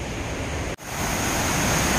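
Steady roar of water pouring over a dam spillway beside a covered bridge in Connecticut, broadband and continuous from start to finish with one brief dropout.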